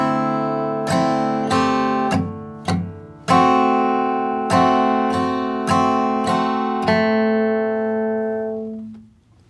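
Acoustic guitar picking measures 8 and 9 of a bluegrass tune: a steady run of plucked notes with ringing bass strums, close and clear, fading out at the end.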